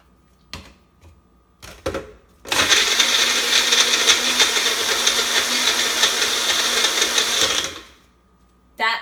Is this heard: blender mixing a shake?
yes